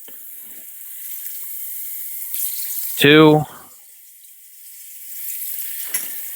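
Tap water runs briefly into a measuring container for a stir fry in a home kitchen, a short loud gush lasting under a second amid low kitchen noise and a little speech.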